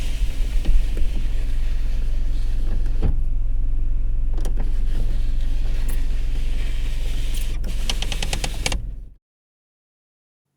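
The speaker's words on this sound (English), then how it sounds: "You heard a car window being manually wound up and down" An old car side window wound up and down by hand with a crank handle: a loud, continuous, close mechanical whirring with a few clicks, lasting about nine seconds and then stopping into silence.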